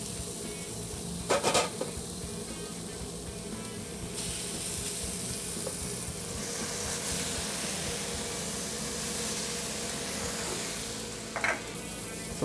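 Mustard knefla dumplings sizzle in a covered pan, a steady close hiss of frying that runs throughout, broken only by a couple of brief clinks.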